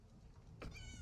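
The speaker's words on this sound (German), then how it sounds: "ich glaube, die Katzen planen was" A cat in the video game Elder Scrolls Online lets out one short, quiet meow near the end of a low background hum.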